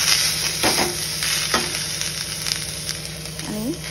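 Ivy gourd frying in a pan, a steady close sizzle with a couple of spatula scrapes and light stirring sounds.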